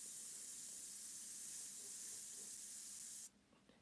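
Opaque paint mixture sprays steadily from an airbrush while realistic flames are painted, a continuous close hiss that runs for about three seconds and then cuts off abruptly.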